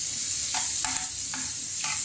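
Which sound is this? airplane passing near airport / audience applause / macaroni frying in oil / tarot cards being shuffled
macaroni frying in oil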